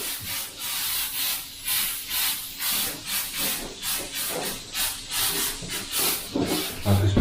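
An aerosol can lays a light dusting of clear coat over textured steel with brazed welds, heard as short, rhythmic bursts of spray hiss in quick succession, close to the mic, with no talking.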